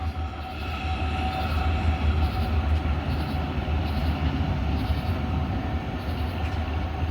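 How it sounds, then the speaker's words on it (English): A freight tanker train with a covered hopper up front rolls past, a steady loud rumble of rail cars with faint wheel squeal and clatter, no voices. "it looks like it's a tanker train that had a covered hopper on the front of it"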